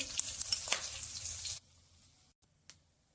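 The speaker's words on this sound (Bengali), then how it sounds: "কড়াই গরম হয়েছে, এবার মাছগুলো ভেজে নেব" Fish frying in a kadai: busy sizzle with sharp pops for about a second and a half, then it cuts abruptly to near silence with one faint click.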